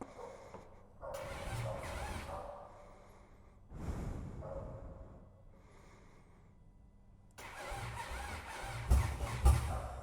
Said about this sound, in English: There's nothing worse than going to start your motorcycle and hearing it click or try and turn over and it won't.